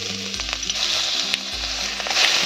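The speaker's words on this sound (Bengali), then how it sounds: "রসুনটাও ভালো করে ভেজে নেব" Crushed garlic frying in hot oil with curry leaves and spices gives a loud, steady sizzle that crackles close by, with a few stirring scrapes and no voices.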